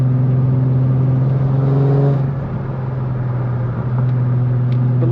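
A Chrysler SRT-6 accelerating in third gear, heard from inside the car: a loud, steady engine drone that dips briefly midway and then resumes its pull, with no talking.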